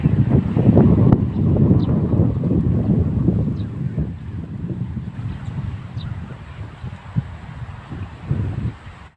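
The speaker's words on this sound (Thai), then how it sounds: "ลมแรงครับ ผมลมแรงเพราะว่าพายุฝนนะครับ" Strong wind from a rainstorm roars and buffets against the microphone in heavy, rumbling gusts, loud at first and easing slightly, with faint rustling underneath.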